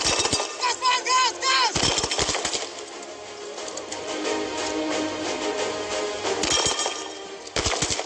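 Sniper gunshots striking targets during a SWAT challenge competition stage in Dubai, a few sharp cracks at the start and again near the end, with crowd and commentary noise filling the gaps.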